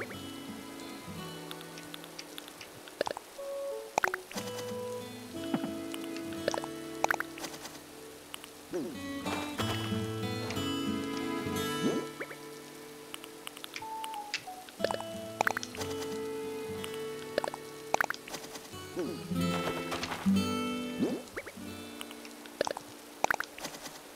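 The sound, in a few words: rain falling in a farming video game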